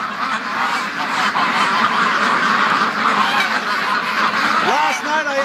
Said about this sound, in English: Oh, there's the Brant geese on the other side of the pen.